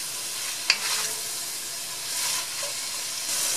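A venison roast sears in a hot Dutch oven, giving a soft, steady sizzle and hiss with one sharp crackle near the start, fairly faint and with no talk.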